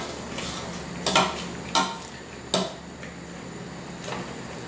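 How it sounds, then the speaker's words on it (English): A potato masher works through cooked acorn squash in a pot, giving three sharp knocks spaced about a second apart, then softer scraping and a faint final tap over steady kitchen background noise. "I'm just going to mash this stuff."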